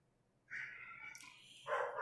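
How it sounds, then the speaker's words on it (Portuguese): A dog barks and yelps a few times at a distance at a gate, thin and high, with a quiet background. "latindo lá no portão"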